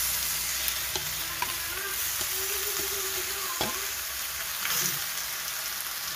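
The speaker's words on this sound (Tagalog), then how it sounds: "Lagyan na natin yung ating balat na baga." Beef skin for Cebuano balbacua going into a cooking pot, heard as a constant hiss and sizzle with soft stirring clinks and occasional light taps, fairly close and without talk.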